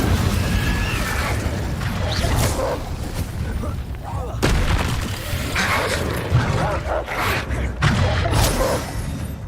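An Incendio fire spell is cast in the Hogwarts Legacy video game, a dense crackling, booming burst amid continuous loud combat noise and crashing impacts with no clear pauses.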